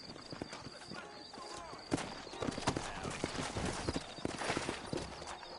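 Horse hooves clip-clop steadily at a walking pace in the video game Red Dead Redemption, with someone talking over them, set against a faint outdoor ambience.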